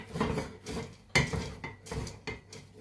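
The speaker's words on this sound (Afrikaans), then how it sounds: "nou begin 'n bietjie moeiliker roer" Melted marshmallows stirred in a pot for Easter nests, a spoon clinking and scraping against the metal in an uneven rhythm of soft knocks, close and quiet, with no talking.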